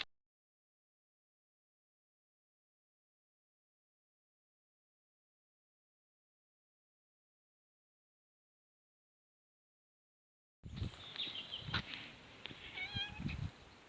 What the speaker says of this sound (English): Come across a cat.